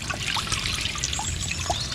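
Water trickling and splashing steadily from a koi pond waterfall fitted with filter media, a continuous close babble with small bright droplet splashes throughout.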